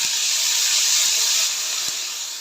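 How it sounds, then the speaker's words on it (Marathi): Finely chopped onion sautéing in hot oil for a potato curry, a loud, steady close-up hiss of frying that fades slightly toward the end, with no voices. "कांद्याला सुद्धा गोल्डन ब्राऊन कलर येईपर्यंत तेलात परतून घ्यायचं आपल्याला"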